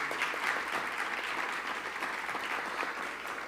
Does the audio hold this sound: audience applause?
yes